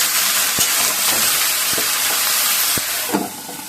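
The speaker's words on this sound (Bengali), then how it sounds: "এই যে আলুটা ভাজা হয়ে গেছে" Potatoes fry in oil in a home kitchen pan, giving a loud, steady sizzle and hiss with a few sharp clinks of a spatula stirring through it.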